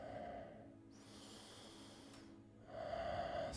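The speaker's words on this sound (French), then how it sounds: "Respirez fort, prenez quelques respirations." Strong breathing during a morning yoga session, with a slow deep inhale and exhale at close range and heavy airy breath noise, quiet and without speech.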